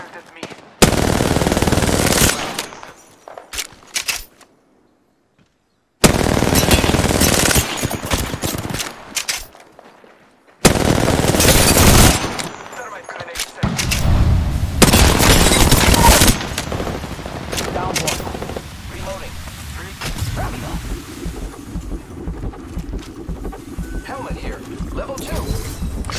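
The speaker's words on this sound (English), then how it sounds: "Shots fired at me." Gunfire from the battle royale video game Apex Legends, loud bursts of automatic fire and single shots coming in heavy clusters separated by short silences, then a steadier background of game sounds, with a player talking at points.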